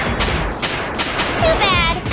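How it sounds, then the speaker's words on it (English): Brain cannon fire in Hyperdimension Neptunia U: Action Unleashed, a burst of sharp, punchy shots in quick irregular succession with crackling, whooshing tails, loud and up front over busy battle noise. "Fire! Brain cannon!"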